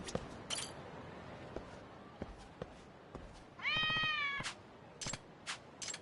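A stray cat in the video game Lost Judgment gives one clear, drawn-out meow, loud and close, amid scattered light taps and short bursts of game sound.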